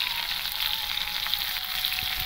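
Vegetables frying in oil with ginger paste, salt and spices for a vegetarian shukto, stirred in the pan: a steady, close, loud sizzle throughout, with a faint scrape of the spoon near the end.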